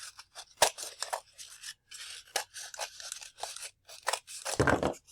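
Scissors snip through a piece of paper to cut it in half, a series of short, close, crisp cuts and paper rustles in a quiet room, with no talking.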